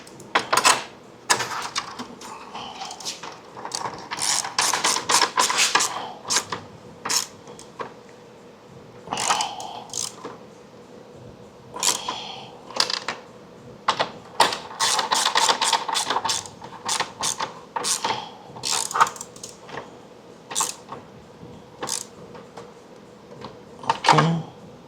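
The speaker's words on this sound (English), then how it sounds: "Tighten up the bolts." Bolts tightened on an INEOS Grenadier grill light mount with a ratcheting tool: close, repeated clicking and ratcheting bursts with metallic knocks, starting and stopping irregularly.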